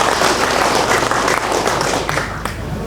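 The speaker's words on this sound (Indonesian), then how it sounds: "Tepuk tangan untuk beliau." A large audience at a formal regional government address in Taro, Gianyar, Bali breaks into dense, continuous applause, loud and close, filling the whole stretch with a steady roar of hands.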